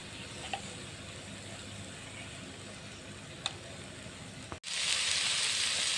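Masala spice paste with onion paste and Kashmiri chili powder frying in oil in a village kitchen, giving a steady, close sizzle with faint ticks, then a sudden, brighter hiss near the end.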